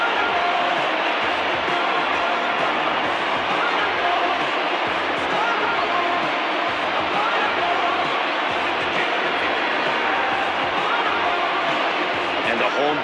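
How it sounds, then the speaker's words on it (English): Stadium crowd in a baseball video game, late-inning World Series, a dense, continuous roar of cheering and whooping, loud and sustained throughout. "Crowd has really come to life here in the bottom of the 8th."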